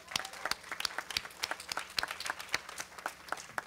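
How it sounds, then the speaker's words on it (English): Scattered applause from an audience at a community plaza celebration, honoring children; a modest crowd claps unevenly with sharp individual claps standing out, moderately loud and steady for several seconds. "another round of applause for our children"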